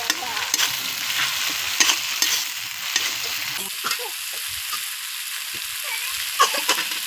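Spice paste and coriander leaves tossed into a frying pan for a spicy fish curry, giving a close crackling sizzle with repeated scraping stirs and small clatters, steady throughout and without speech.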